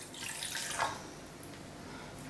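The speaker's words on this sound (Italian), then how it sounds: "prendere un pentolino, versarci dentro l'acqua" Tap water running and splashing as it is poured into a small saucepan in a home kitchen, making a steady, close pour that lasts a couple of seconds with a brief brighter surge early on.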